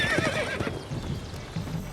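Roach, a horse in The Witcher 3, gives a short whinny at the start, followed by a few soft hoof clops, close and clear.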